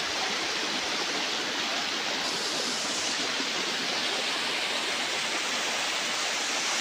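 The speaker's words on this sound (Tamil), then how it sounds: "இது எங்களோட வாட்டர் ஃபால்ஸு." Waterfall in the middle of a forest, a loud steady broadband rush of falling water filling the whole stretch with no breaks and no voices.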